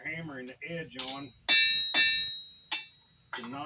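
A hammer strikes hot steel while forging the edge of a Bowie knife, giving two loud, ringing metallic blows with short resonant tails between stretches of a man's speech.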